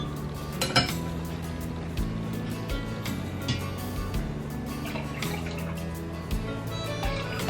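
A spoon stirs a coquito mixture in a bowl, producing repeated light clinks and scraping against the sides in a steady, near rhythm.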